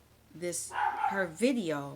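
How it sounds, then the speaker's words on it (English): A dog barks and whines indoors in brief bursts, mixed in under someone talking close to the microphone. "that's the dog barking again"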